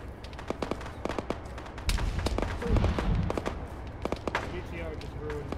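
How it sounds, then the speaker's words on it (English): Autocannon fire in the Arma combat game, a series of sharp irregular bangs and heavy booming impacts, some close and loud, mixed with voices talking over the gunfire. "Two starting to take autocannon fire now."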